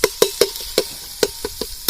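Quick, regular clacks of a utensil striking a frying pan as chopped tomatoes are tossed and stirred, close and loud, with no talking.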